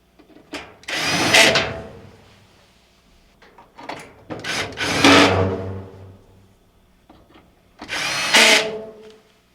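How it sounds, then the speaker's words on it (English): Cordless power drill driving screws to re-secure the blower housing cover on a Maytag dryer, three loud close whirring bursts with short quieter handling sounds between them. "you can now take your drill and re-secure it back in place"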